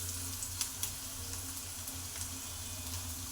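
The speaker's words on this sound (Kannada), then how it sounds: "ನೋಡ್ತಾ ಇರ್ಬೋದು ಈರುಳ್ಳಿ ಫ್ರೈ ಆಗ್ತಾ ಇದೆ ಅಲ್ವಾ" Onion and curry leaves fry in hot oil in a home kitchen pan, giving a soft, continuous sizzle with a few small pops. The sizzle is faint and sits over a low background hum.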